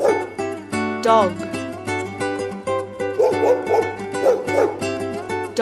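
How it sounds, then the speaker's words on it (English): A cartoon dog barks in repeated yips and bow-wows over a busy children's song with music playing throughout, the barks fairly loud and close. "dog,"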